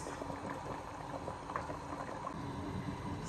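Goat meat pepper soup with Nigerian spices boils in a pot, a continuous, even bubbling and simmering hiss heard up close with no talking.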